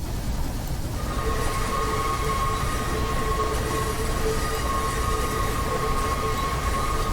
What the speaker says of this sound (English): Never mind the track squeal, that's just in the corners.